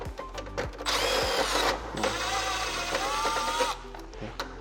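A loud, close electric screwdriver whirs steadily for about three seconds, backing out screws from the circuit board cover of a 2023 Wind-Free Classic stand air conditioner, with short mechanical clicks before and after.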